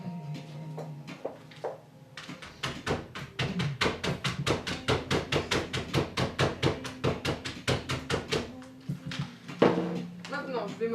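A hammer strikes walnuts sealed inside an unopened package in a kitchen, a rapid run of dozens of sharp, evenly spaced knocks, fairly close, with a voice speaking before and after.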